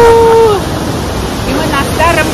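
A rushing mountain river pours beneath an old stone bridge in Norway, a steady broadband roar of water close by, with people talking over it.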